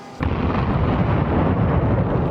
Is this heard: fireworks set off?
yes